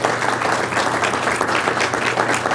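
Audience at a school board meeting gives a round of applause, a thick, continuous patter of many hands clapping at close range, steady and fairly loud for the whole stretch.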